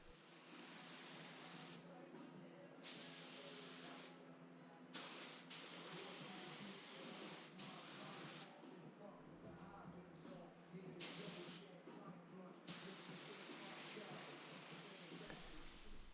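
A spray gun hisses in repeated bursts of basecoat paint, each a sustained airy spray broken by short pauses, close by and fairly loud.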